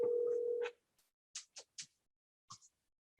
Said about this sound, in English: Just to make a phone call, I just press the extension.